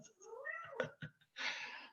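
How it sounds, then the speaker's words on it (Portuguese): A neighbour's cat begging for food gives a drawn-out rising meow up close, followed by a short chirp and a breathy, hissing cry. "está aqui a minha vizinha gata, que entrou aqui para pedir comida agora"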